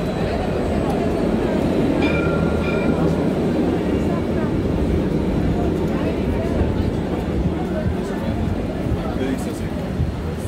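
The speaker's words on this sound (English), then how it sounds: "Here's a train coming in, going north." A northbound train rumbles into a Jerusalem station with a steady low roar and rattling, faint squeals of wheels or brakes rising above the heavy noise.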